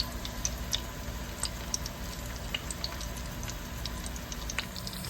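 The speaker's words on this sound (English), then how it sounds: "So you throw the onions in and let it fry" Onions frying in hot oil in a pan, a low steady sizzle scattered with small pops and crackles, quiet and close, with no voices.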